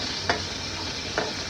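Shallots, cumin and curry leaves sizzle steadily in hot oil while cabbage kootu is being cooked, a dense continuous frying hiss broken by two soft stirring scrapes.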